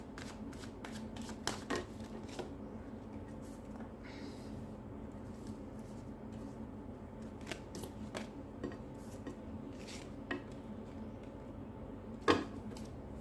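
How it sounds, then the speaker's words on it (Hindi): Tarot cards shuffled by hand in a quiet room, a steady papery riffle and slide running throughout with scattered sharper flicks and taps, one louder snap near the end, no voices. "आखिरी बार शफल कर लेती हूँ।"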